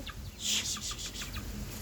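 Chickens cluck in a few short, bright bursts that sit close by over a low background rumble. There is no talking.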